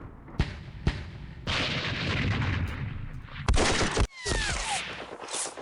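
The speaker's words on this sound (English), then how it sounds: "And a mortar." Mortar and artillery fire in a World War II Philippines war strategy game: sharp booming shots and bursts of explosions, loud and close, one after another with rumbling noise between.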